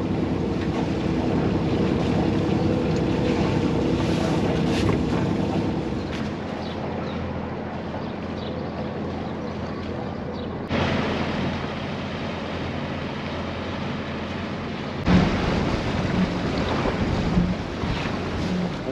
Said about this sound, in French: Ce matin, le vent est pas super fort